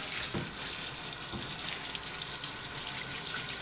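Water sprays steadily from a hose nozzle onto a dog's coat to soak it through, a close, continuous hissing rush with slight splashy variation and no voices.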